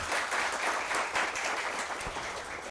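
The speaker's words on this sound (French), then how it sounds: "que je vous demande d'applaudir très chaudement, s'il vous plaît" An audience at a televised high school quiz match applauds sponsors with steady, dense clapping that holds evenly for the whole stretch, moderately loud and unbroken by voices.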